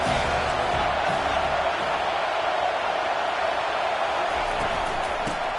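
A college football stadium crowd roars in a steady, dense wash of cheering and noise that holds at the same level throughout, distant and broad with no single voice standing out.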